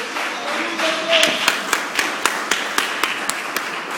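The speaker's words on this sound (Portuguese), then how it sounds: "Se assenta e bate as palmas para Jesus." Church congregation clapping hands in a steady, evenly spaced rhythm, roughly four claps per second, over a murmur of voices and faint background sound.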